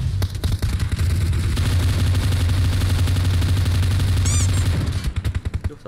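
Rapid automatic gunfire in the PUBG Mobile battle royale game, dense loud bursts of shots running almost continuously, with a sharp whistling ricochet near the end before the firing tails off into scattered shots.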